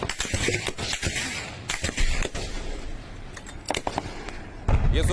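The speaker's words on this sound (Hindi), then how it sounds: "ये सुन रहे हैं आप, ये गोलियां बरस रही हैं, बारूद बरस रहा है" Gunfire during a battle in Panjshir, sharp broadband cracks and bursts scattered irregularly across the clip over a noisy outdoor background, with a heavier blast near the end.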